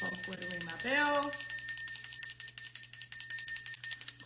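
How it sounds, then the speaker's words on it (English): A small hand bell rings continuously in a steady shimmering jingle during a spiritual ritual calling on ancestors, close and loud, with a voice speaking briefly over the start. "So I'm going to ring my bell."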